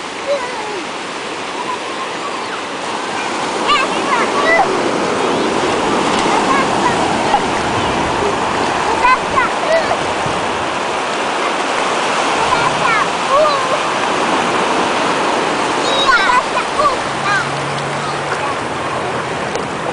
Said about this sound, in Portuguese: É o mar.